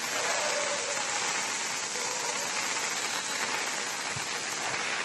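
Heavy monsoon rain pours down in Madikeri, Karnataka, a dense, even hiss of downpour that holds steady throughout with no voices.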